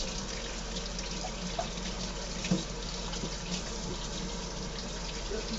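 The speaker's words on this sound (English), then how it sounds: "Now I'm going to give these a rinse to get rid of the rest of the seeds." Running tap water pours steadily into a sink while vegetables are rinsed under it, a continuous close splashing wash with a few small knocks and no pause.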